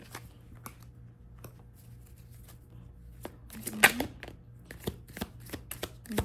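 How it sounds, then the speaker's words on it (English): Tarot cards are shuffled by hand in a quiet room, a soft run of faint riffles and taps with scattered small clicks, louder toward the end. "I shuffle one additional time so you all can see that I did shuffle"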